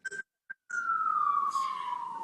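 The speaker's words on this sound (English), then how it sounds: "your timing is impeccable as an ambulance goes driving by in the background" Ambulance siren passing outside during an indoor panel discussion, a long falling wail heard through the room after a few short blips, moderately loud and alone.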